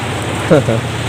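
Heavy rain pours during a journey, a dense steady hiss filling the short moment, with a voice briefly speaking over it.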